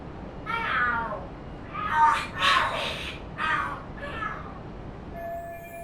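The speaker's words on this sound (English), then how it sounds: "Are there cats fighting?" Cats fighting and screeching in the video game Lost Judgment: a series of shrill, wavering yowls and caterwauls rising and falling in about five bursts, loud and close over a low background hum.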